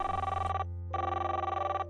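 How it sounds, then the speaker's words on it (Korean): A telephone rings in two electronic bursts separated by a short pause, steady and fairly close, with no voices. "얼마 뒤 갑자기 전화벨이 울렸습니다."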